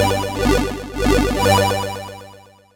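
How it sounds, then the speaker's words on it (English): An 8-bit style synth lead patch from Native Instruments Massive plays a short bright, buzzy melodic phrase of a few notes with wobbling pitch, loud and close, fading out after under three seconds. "I'll be creating an 8-bit style lead sound that's going to sound like this."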